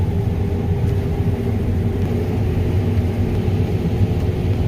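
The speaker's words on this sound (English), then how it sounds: "That's Phil in the grain cart tractor." A grain cart tractor drives through a harvest field, a loud continuous low engine rumble that stays steady and close, with no break or change in pitch.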